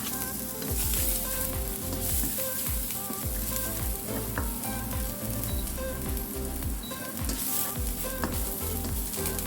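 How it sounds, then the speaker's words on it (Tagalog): Garlic sautéing in hot cooking oil for a Filipino shrimp, squash and string bean coconut stew, a loud, steady sizzle with a rhythmic scrape of stirring throughout and no talk. "Pag mainit ng mantika, mga kaluto, unahin na natin ang magsusutay na tayo ng garlic."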